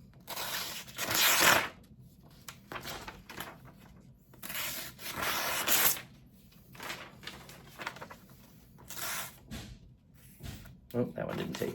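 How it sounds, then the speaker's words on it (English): A sharp bushcraft knife slices through sheets of paper in several separate strokes, each a close, dry rasping swish lasting about a second, with quieter handling noises in between. "But notice in these cuts, the paper's nice and smooth."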